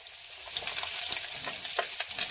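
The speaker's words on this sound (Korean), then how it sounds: "이렇게 올리브 오일을 조금 둘러주시고 코팅을 해주시고 마늘과 이 양파를 넣고" Garlic and onion frying in a little olive oil in a pan, a short burst of close, dense sizzling with faint stirring movements underneath, steady in level with no voices.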